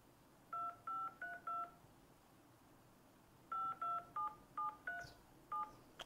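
Keypad tones from an iPhone running iOS as digits are typed: a quick run of four beeps, a pause, then six more spaced beeps, clear and close with no talking.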